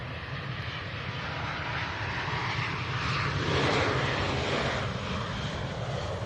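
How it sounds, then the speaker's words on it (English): An EasyJet Airbus A320 taking off at Manchester Airport, its engine roar a steady, broad rumble that swells slightly in the middle and stays loud throughout without speech. "the EasyJet to Amsterdam taking off"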